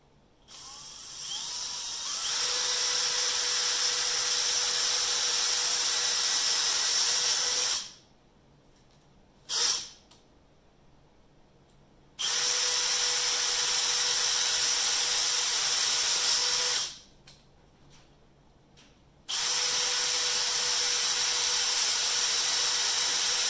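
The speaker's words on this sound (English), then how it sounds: "Try to pull out these oil galley plugs and drill a hole." A power drill bores holes into the oil galley plugs of a '57 Chevy Bel Air engine, whining loudly in three long sustained bursts separated by short pauses and a brief blip, with no talking.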